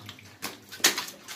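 Water flowing inside an old mine gallery, a soft uneven trickling and splashing with a few brighter spurts, faint and echoing.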